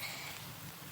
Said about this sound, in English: Unexpected rain. It's so rainy.